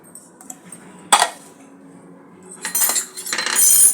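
A metal spoon clinks and scrapes against a bowl while mixing ground turmeric, chilli powder and black cumin, in scattered sharp taps followed by longer rattling scrapes building toward the end.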